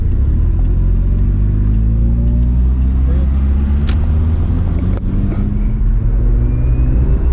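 A 1985 Mazda RX-7's rotary engine revs steadily with a deep, continuous rumble throughout, loud and close, with a brief higher whine partway through.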